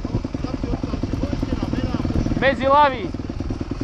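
Motorcycles running in a forest, a steady low engine drone underneath loud argumentative talk throughout, with a brief rising rev near the end.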